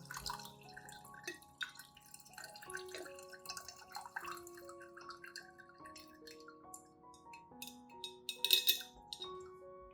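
Coffee liquid filtered to strip out the grounds, heard as light drips and trickles with occasional glassy clinks, close and quiet, alone without speech.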